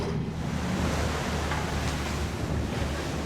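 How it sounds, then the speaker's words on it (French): Rough surf churns and roars continuously with strong wind buffeting the microphone, a dense, unbroken wash of water noise. "La mer est trop déchaînée."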